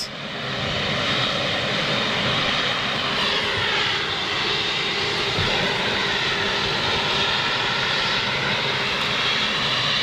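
Ilyushin Il-76 jet engines roar close by in a loud, steady wash of broadband noise with a high whine, holding constant throughout without any speech.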